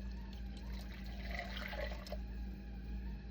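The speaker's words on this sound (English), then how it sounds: "I've got my boiling water. As you can see, I'm going to pour it into my bowl." Boiling water is poured into a mixing bowl for a sourdough multigrain loaf, a steady close trickling and splashing stream over a constant low hum, with no voices.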